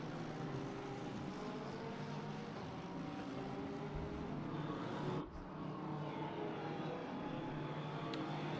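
Race cars at Snetterton in a racing video game: a steady, sustained engine drone with a faint whine on top, continuous and moderately quiet, with one brief dip in the middle and no talking.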